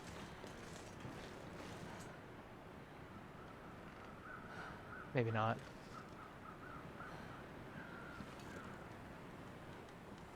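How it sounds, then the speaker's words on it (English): Corpse crows cawing in the video game The Long Dark, a short harsh burst of caws standing out over steady ambient wind noise, with a player talking briefly. "I hear corpse birds though."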